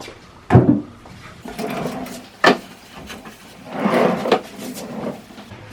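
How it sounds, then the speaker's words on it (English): A big bottom drawer of a Lego-inspired mobile tool cabinet for power tools slides out and back with several close wooden thumps and rubbing scrapes, clear and alone. "So I've got a big drawer at the bottom for power tools."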